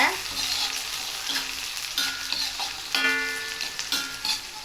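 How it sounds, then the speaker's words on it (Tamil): Onion and green chilli frying in hot oil for a gourd kulambu, a steady close sizzle with scraping stir strokes against the pan, with no talking. "எண்ணெயில் நல்ல வெங்காயம் வெந்துக்கிட்டு இருக்கு"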